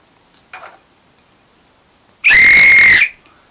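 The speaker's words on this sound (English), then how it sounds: "He blows his whistle like that, doesn't he?" A single loud, shrill whistle blast lasting under a second, like a train guard signalling departure, follows a faint earlier sound in an otherwise quiet room.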